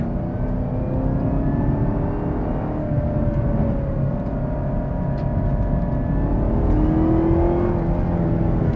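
A 2021 Chevrolet Camaro ZL1 with 650 pound-feet of torque drives on a racetrack, its engine droning and rising in pitch through steady acceleration, heard from inside with a constant road and wind roar and no speech.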